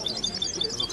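A songbird at a competitive bird-singing contest chirps in quick, high repeated phrases over a steady background hum, fairly close and continuous for under a second.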